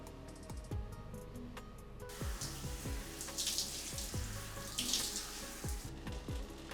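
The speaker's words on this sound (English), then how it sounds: "In the morning, I go to wash my hair." Tap water runs steadily into a sink during hair washing, a close, continuous splashing stream with irregular drips and gurgles, louder bursts of spray midway.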